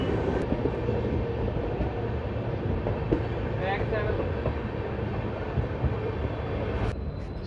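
The 12482 Shri Ganganagar Delhi Intercity train rolls into Mansa station with a continuous low rumble and rattle of the carriages, steady throughout, and a voice speaks over it.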